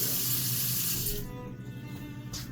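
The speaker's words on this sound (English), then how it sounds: "Just needs a little spritz of water." Water runs from a tap over frozen naruto maki fish cake, a close, steady rush that cuts off after about a second, leaving faint room noise.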